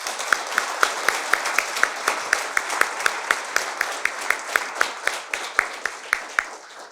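A conference audience claps steadily in a sustained round of applause, with sharp individual claps standing out in an even rhythm.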